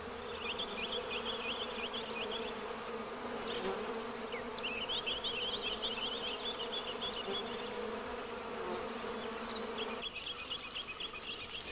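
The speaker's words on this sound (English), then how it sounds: "For a reward of nectar and pollen, bees remix its genes." Bees buzzing around river red gum blossoms, a faint, continuous hum of many insects with intermittent bird chirps over it and no speech.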